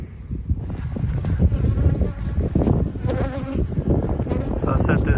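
Honey bees buzz steadily around a hive in an apiary yard, a dense continuous drone close to the microphone with some wind noise mixed in.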